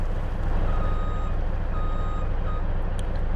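A truck in Farming Simulator 22 sounds steady reversing beeps, roughly three evenly spaced tones, over a loud droning engine rumble, with no talk.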